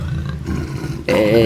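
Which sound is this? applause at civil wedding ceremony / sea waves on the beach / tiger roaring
tiger roaring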